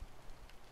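Steady rain patters on a surface outdoors, a continuous broadband hiss with no voices for under a second.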